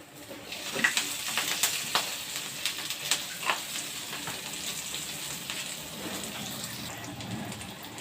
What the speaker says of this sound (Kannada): ಈ ರೀತಿ ಸ್ವಲ್ಪ ಗ್ಯಾಪ್ ಮಾಡ್ಕೊಂಡು ನಡುವೆ ಇಲ್ಲೇ ಎಣ್ಣೆ ಹಾಕಿ ಒಗ್ಗರಣೆ ಹಾಕ್ಬಿಡ್ತಾನೆ ನೋಡಿ